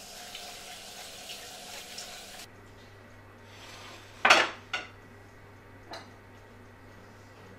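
Mushrooms being washed under a running kitchen tap, with a hiss of flowing water that cuts to a quieter hum, followed by a few sharp clinks of dishes and utensils near the sink.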